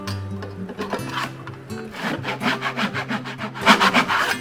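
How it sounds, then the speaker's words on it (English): Hand saw cutting short pieces of wooden kerfing stock, several quick back-and-forth rasping strokes in an uneven rhythm, close and clear with no talking. "And saw till my saw bottoms out and move it up."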